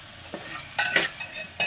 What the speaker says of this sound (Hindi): फ्राई करेंगे, ताकि मसाला और जो तेल है हमारा वो बिल्कुल अलग अलग हो जाए जी।